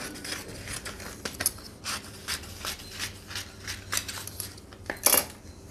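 Scissors snipping through paper to cut a keyhole neck pattern, a run of short crisp cuts with a rustling scrape, steady and close by.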